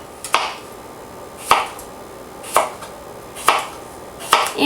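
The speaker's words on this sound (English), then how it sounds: "So I'm going to go ahead and cut the ends off first." A knife chops through the ends of a cucumber on a cutting board, five crisp separate taps spaced about a second apart, close and clear with no talking.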